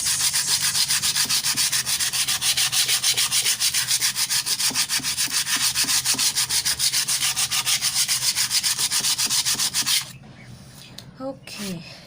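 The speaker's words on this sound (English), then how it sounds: "See, this is the part that I've sanded." Steady, loud scraping of sandpaper rubbed back and forth over a wooden piece with holes drilled for mounting dolls, continuous for about ten seconds before stopping, followed by faint handling noises.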